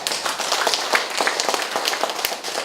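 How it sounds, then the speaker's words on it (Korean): Audience at a town civic meeting clapping, a brisk scatter of individual hand claps, fairly close and loud, with no speech over it. "저 힘내시라고 박수 좀 넣어주세요."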